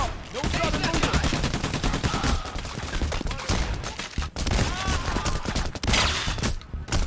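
Rapid loud gunfire in the heist shooter PAYDAY, a dense string of close shots with brief breaks, including headshot hits, and some voices underneath.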